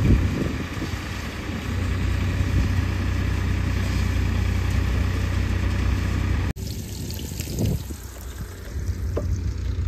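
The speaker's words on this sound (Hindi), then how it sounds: "मेसीन चलती देखो गाइस धान झड़ा मेसीन" A paddy threshing machine runs in a rice field with a loud, steady mechanical drone and hum up close, briefly cutting out before resuming.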